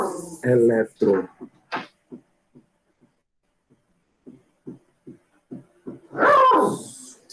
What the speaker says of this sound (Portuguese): Vocês ouviram o cachorro?